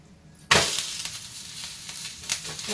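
Radish-leaf thalipeeth dough, patted out on a banana leaf, hits a hot pan and breaks into a sudden loud sizzle that keeps crackling steadily, with a few sharper spits later on.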